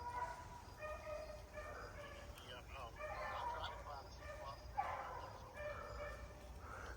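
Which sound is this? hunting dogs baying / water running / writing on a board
hunting dogs baying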